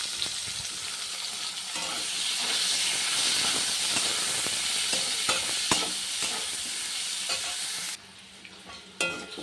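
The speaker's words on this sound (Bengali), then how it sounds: "পেঁয়াজটা একটু হালকা ভাজা হোক" Onion frying lightly in oil in a home kitchen, a steady close sizzle and hiss with occasional stirring scrapes, continuing until it drops away near the end.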